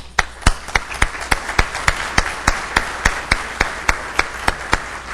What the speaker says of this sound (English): I think you all deserve a wonderful and great round of applause